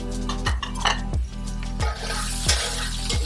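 Yellow onions and chopped garlic sautéing in a pan, a soft steady sizzle broken by regular scraping and clinking of a utensil stirring against the pan about every second and a half.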